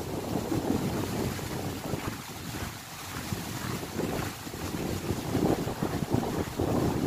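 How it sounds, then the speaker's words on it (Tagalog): A strong wind roars steadily along the Lachine Canal walking path in Montreal, buffeting the microphone with a heavy, rumbling gust noise that swells and eases slightly throughout, with no talking. "Yan o, ang hangin o. Grabe o. Mahangin."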